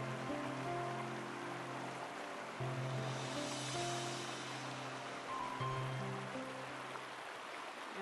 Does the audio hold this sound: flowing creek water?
yes